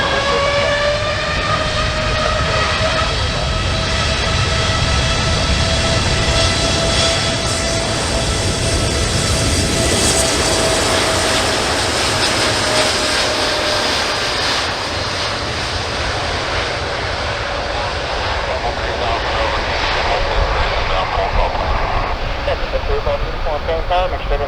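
The jet engines of a Qatar Airways Boeing 787-9 roar steadily through a takeoff, a loud continuous drone with whining tones sliding slowly in pitch, while air traffic control radio talk runs over it.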